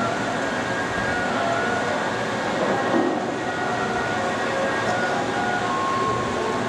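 A Leblond 31 x 144 Model NI lathe in very good condition runs at its top speed of 400 RPM, giving a steady, even mechanical hum and whir with no interruptions.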